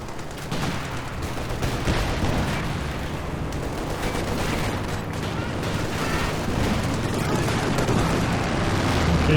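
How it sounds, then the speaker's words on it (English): Aircraft strafing run in a World War II strategy game, with dense rapid gunfire and blasts forming a loud continuous barrage that builds slightly toward the end, along with mixed battle noise. "Okay, decent strafe there."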